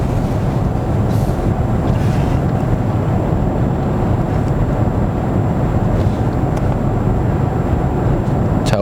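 Steady, dense low rumble of road and engine noise inside a Genesis GV80 SUV moving at about 90 km/h, constant throughout with no talking.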